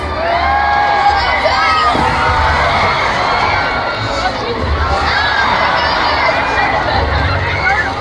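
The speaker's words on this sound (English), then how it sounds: "give our volunteers a big round of applause" A large crowd in the stands at a Sea World orca show claps and cheers steadily, with children shouting, loud and continuous.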